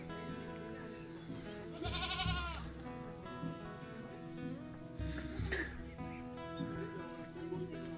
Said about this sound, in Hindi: भेड़ बकरी यहाँ पे रखे हुए हैं